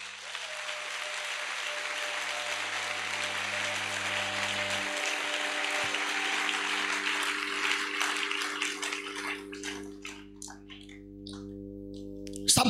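A church congregation bursts into sustained applause to acclaim the Lord, a dense wash of many hands clapping that thins toward the end into scattered individual claps.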